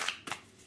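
Tarot cards being shuffled and a card drawn, heard as a short, soft riffle followed by a brief flick, close and quiet with no voices.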